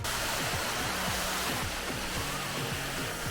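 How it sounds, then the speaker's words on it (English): Steady, loud broadband roar of a high multi-tiered waterfall on Madeira, with water crashing constantly and evenly throughout, no voices. "Oh, I found the new waterfall. It's very high."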